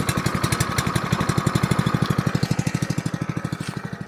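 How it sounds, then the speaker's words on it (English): A small Honda engine runs steadily on a log splitter with a fast, even chugging pulse that stays close and fairly loud, with no talk. "these little Honda motors run best when they flip to on"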